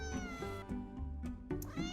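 A cat meows repeatedly nearby in a kitchen while meat patties are being cooked, giving several short, clear mews in quick succession over a couple of seconds, with no talking.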